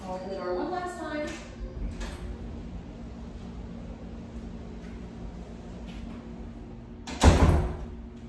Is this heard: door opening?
yes